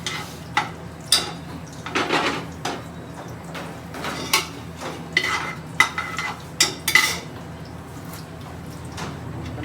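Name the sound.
garam masala spices frying and being stirred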